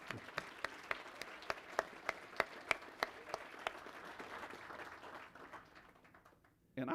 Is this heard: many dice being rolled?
no